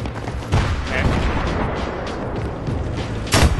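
Gunfire and explosions in the video game Battlefield 3 rumble through a busy firefight, with sharp reports near the start and a loud blast toward the end over continuous battle noise.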